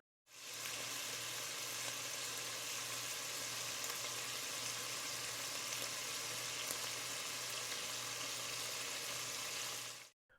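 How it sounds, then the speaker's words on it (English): Bacon frying in a pan for homemade baked beans, crisping as the fat renders, with a steady, dense sizzle and crackle that runs unbroken and fairly loud for about ten seconds, with no talking. "I want to get the bacon crisped up and the fat rendered out."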